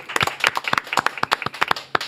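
A small audience claps to welcome a guest professor at a Korean talk event on peace on the Korean Peninsula, a sparse run of distinct, irregular hand claps, close and fairly loud.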